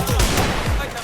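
Rapid gunfire rattles in the Free Fire video game, with a couple of quick, loud, close bursts crowded into about a second.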